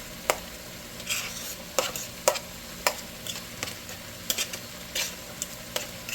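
Onions, hot pepper, garlic and seasoning fry in a hot pot while a spoon stirs, with a steady close sizzle and sharp scraping strokes recurring every second or so, and no talking.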